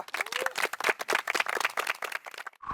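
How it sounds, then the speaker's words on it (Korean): A small group applauds at a team-captain introduction, with dense, scattered hand claps in bursts close by and a brief cheer before the clapping tapers off. "박수 부탁드립니다."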